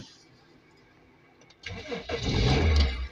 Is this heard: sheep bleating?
no